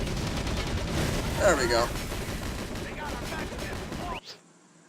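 Heavy tank in the Battalion Wars video game firing shots, heard as dense repeated game gunfire and blasts under continuous talking, ending abruptly near the end.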